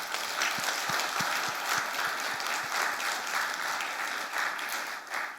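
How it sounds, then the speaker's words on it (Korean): A church congregation at a Sunday worship service applauds the elderly members, producing a dense, sustained roar of many hands clapping that holds steady throughout, heard from within the room. "우리 연로하신 어른들에게 한번 박수 한번 보내드릴까요?"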